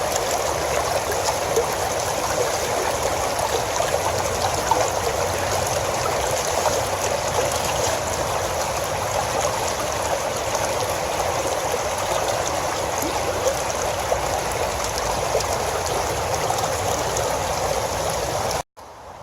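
Water runs through a gold sluice box in a steady continuous stream, a broad rushing and trickling sound that holds constant before cutting off abruptly at the end.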